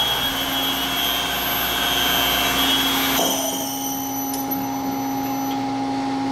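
A PM727M CNC mill spindle runs at full speed with a steady whine and hum, then its motor brakes to a stop halfway through, leaving a fading whir and faint mechanical ticks close by.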